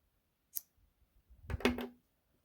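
Scissors snip through yarn while crocheting a granny square: one short crisp snip near the mic, followed by a louder, longer cluster of cutting and handling clicks.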